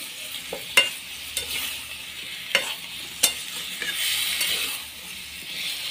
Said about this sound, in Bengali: এবার জল দিয়ে দিয়েছি, মশলা দিয়েছি, এবার কষবো।